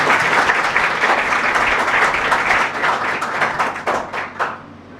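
An audience at a nursing college induction gives a warm welcome of applause, many hands clapping in a dense sustained roar that thins into scattered separate claps before fading out.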